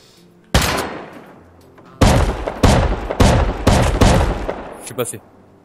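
Bursts of gunfire in the survival video game Rust: a single loud shot, then a rapid string of five or six sharp close reports followed by a fainter shot, with quiet background between.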